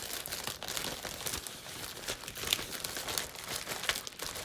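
Plastic bags holding jewelry crinkle and rustle continuously up close, with irregular crackling bursts as they are handled.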